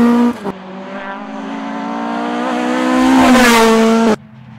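A Ford Escort Mark II rally car roars past on a tarmac stage of the Monaghan Stages Rally, engine revving hard and rising as it approaches, then cutting off sharply as it passes.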